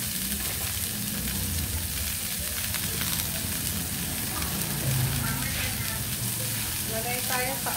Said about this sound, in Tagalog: Lagay ko na yung cabbage.